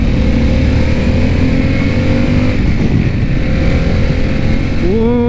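2022 Harley-Davidson Pan America adventure motorcycle with Revolution Max engine at speed, a steady loud close engine drone with wind roar, pitch climbing sharply as it revs up at the end.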